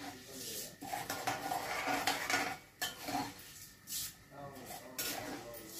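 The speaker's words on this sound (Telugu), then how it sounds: "మినపప్పు ఏగుతున్నాయండి బాగా." Urad dal dry-roasting in a pan gives a steady scraping and clinking of a utensil against metal, with a rustle of lentils, under a voice talking close by in Telugu.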